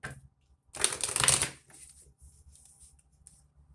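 A deck of tarot cards is riffled in one quick burst, followed by a few soft taps and light card handling nearby.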